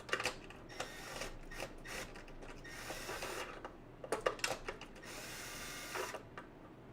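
Last screw being backed out of a vacuum cleaner housing during repair, heard as close, quiet ratcheting clicks and scraping turns in short irregular bursts over a low background hum, with no talking.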